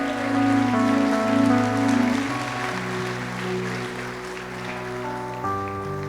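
Church congregation applauding during a Spanish-language worship service, a steady rain-like wash of many hands clapping over sustained keyboard chords that shift every few seconds.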